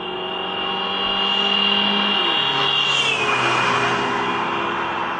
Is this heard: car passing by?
yes